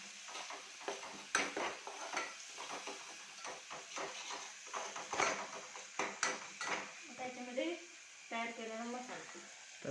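Chicken masala is stirred and roasted in a pan at home, with a steady run of scraping and clinking spoon-on-metal strokes under faint sizzling while a voice talks in the background.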